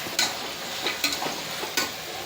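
Green peas and vegetables stir-fried in a hot pan, giving a steady close sizzle broken by a few sharp scraping strokes of a spatula, with no talking.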